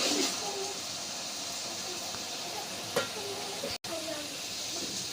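Chopped ingredients sizzle in hot oil in a pot while chickpea pulao is being cooked, a steady loud hiss with small crackles and a stir or two, no voices.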